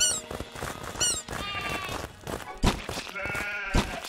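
Sheep bleating in the video game Craftopia, several short wavering bleats spread across the clip, mixed with game sound effects and thumps, fairly close and clear, with no talking.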